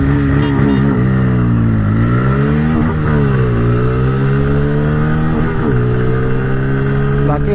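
Bajaj Pulsar N160 and TVS Raider 125cc motorcycles accelerating side by side in a drag race, loud close engines rising in pitch through several gear shifts over a sustained roar.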